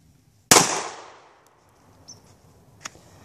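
One loud, close pistol shot from a Glock 43 at an outdoor range cracks and rings out, followed by faint clicks and handling noise.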